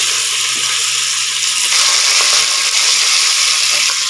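Onion, chillies, spices and tomato fry in hot oil in a pan for a Tamil lunch-box rice dish, giving a steady close broadband sizzle that swells slightly midway, with no one speaking.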